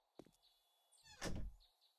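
In-game door in 7 Days to Die swinging shut: a faint short creak, then a louder solid wooden thunk with a brief rattling tail, heard alone and close.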